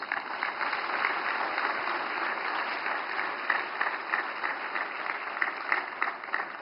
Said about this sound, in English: welcome the Honorable President of India with a huge round of applause